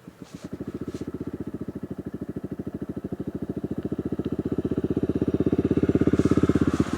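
A motorcycle engine thumps in a fast, even rhythm close by, its pulsing putter rising gradually in loudness as the throttle opens.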